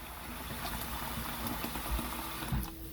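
Water runs steadily into a cooking pot for a chopped beef and black bean dish, a continuous close splashing and trickling with faint kitchen clatter, no talking.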